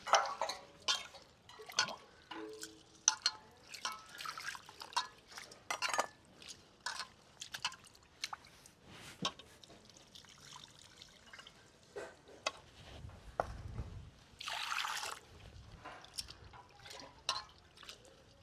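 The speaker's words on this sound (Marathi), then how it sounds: "डाळ असे चोळून चोळून धुवायची" Water sloshing and dripping as lentils are rubbed and rinsed by hand, with small splashes and soft clinks of a bowl, close by.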